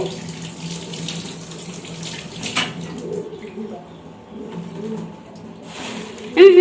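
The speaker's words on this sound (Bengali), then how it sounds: "এই যে মাছটা ধুয়ে দিচ্ছে ও।" Water from a kitchen tap runs and splashes while fish is washed under it, a moderate, uneven stream with clattering, and someone speaks over it.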